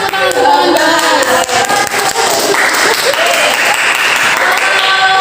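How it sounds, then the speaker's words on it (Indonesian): Classroom audience clapping in an Indonesian elementary-teacher-education lesson, a loud, dense burst of many hands that fills the whole stretch, with voices talking and calling out over it. "boleh yuk kasih tepuk tangan"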